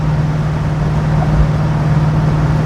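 A 1969 Pontiac GTO with a Tremec transmission hums along in a steady, loud, low engine drone from inside the car, without a distinct rev change, and no one speaks.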